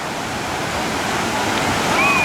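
Waves in a water park wave pool crashing and churning at Hurricane Harbor Maryland, a loud continuous broadband wash with faint voices high in the background.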